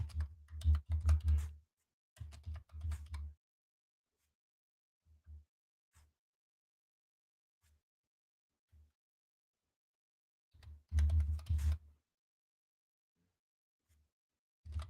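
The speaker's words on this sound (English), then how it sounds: "Yeah, I'm typing. Deal with it." Bursts of typing on a computer keyboard, close and fairly loud, come in clusters of rapid clicks separated by quiet gaps and a few isolated keystrokes.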